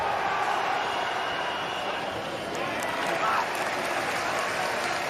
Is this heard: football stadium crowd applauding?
yes